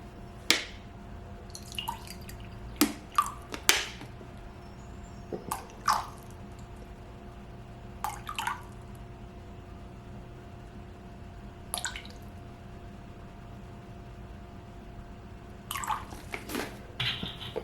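Water is added in small separate splashes and drips to a homemade sourdough starter of all-purpose flour, with about ten short wet bursts spaced irregularly over a quiet background and no voices.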